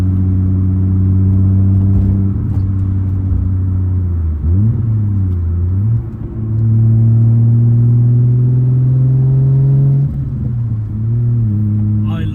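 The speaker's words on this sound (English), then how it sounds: "I love the turbo sound." A Nissan Skyline R32 turbo engine drones steadily while driving, with a smooth, loud rumble that briefly dips and rises as it shifts. There is no blow-off valve.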